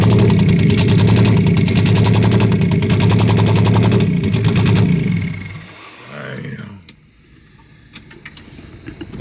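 A turbocharged GM LFX V6 swapped into a Volvo wagon runs loud and rough for about five seconds with a dense, buzzing exhaust note, then drops away to a quieter idle with faint clicks.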